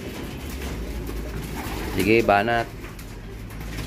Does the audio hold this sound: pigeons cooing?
yes